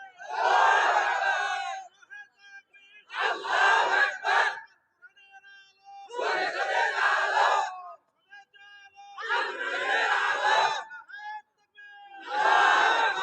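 A large crowd at an outdoor Islamic sermon gathering chants a slogan in unison. Loud, roaring call-and-response phrases repeat in about five bursts, each a couple of seconds long, with short pauses between them.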